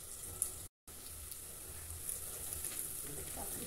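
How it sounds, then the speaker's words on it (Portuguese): Sardines with onion frying in a pan, giving a steady, close sizzling hiss that runs through the whole stretch with no talking. "Tá fritando aqui ainda"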